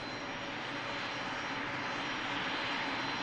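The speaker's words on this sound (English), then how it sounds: "Another aircraft that's going to opt to take the quickest routing over to, the quickest taxi over to the second runway." A Beechcraft 400 business jet taxiing at Manchester Airport gives off a continuous, broad engine roar that stays steady and fairly close, with no pauses or voices over it.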